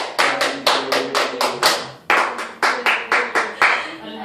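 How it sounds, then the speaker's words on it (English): Steady rhythmic hand clapping from children in a music class, a dozen loud even claps in a regular beat with a brief break midway, close and clear. "so that's a clap"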